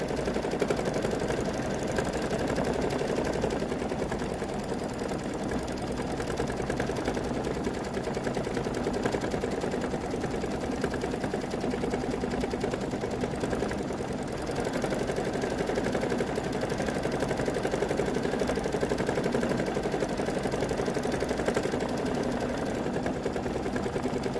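A quilting machine stitches a stained glass quilt with a rapid, steady mechanical chatter that runs unbroken and close for the whole stretch, with no voices.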